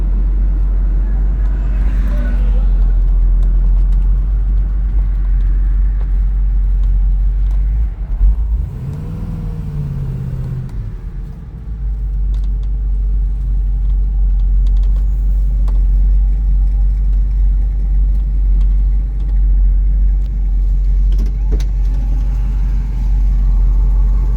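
A 1969 Pontiac Firebird Convertible rumbles along on the road, its engine a deep, steady drone that dips and swells briefly mid-drive before settling back into a constant low roar.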